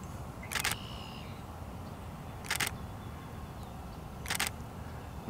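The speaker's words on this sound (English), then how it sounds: "And then I've got my remote shutter" A Nikon camera's shutter fires by remote three times at even intervals, each a short crisp mechanical click close to the microphone over quiet outdoor wetland ambience.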